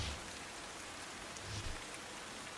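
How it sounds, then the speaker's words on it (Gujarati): Heavy morning rain falls steadily in Junagadh district, Gujarat, as a soft, even hiss of drops on surfaces with no other sound standing out. "સવારથી જ માળિયાહાટીનામાં સતત વરસાદી મહેર ચાલુ રહી।"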